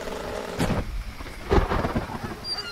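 Thunder and steady rain in an audio drama: two heavy rumbling thunder cracks a second apart roll over a constant hiss of nearby rainfall, with no voices.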